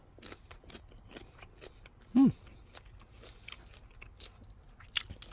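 Someone bites and chews a boiled, head-on, shell-on frozen white shrimp from Costco. The soft, close crunches and chewing sounds are quiet and come in irregular bursts.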